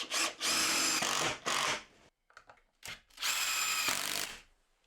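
A power drill drives a screw into a wall batten for a workbench in loud bursts of whirring, with short pauses and faint ratcheting clicks between the runs, heard close up and without speech.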